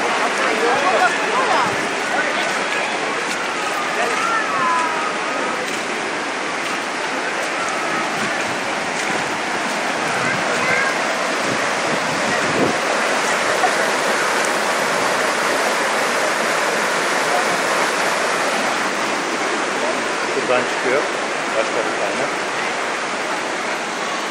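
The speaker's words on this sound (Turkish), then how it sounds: "suyun çıktığı gözler gördüğünüz gibi kayanın altından fışkırıyor." Spring water gushes out from under rock at Saklıkent in Fethiye, a loud, steady, broadband rushing roar that continues unbroken and close up, with no voices heard over it.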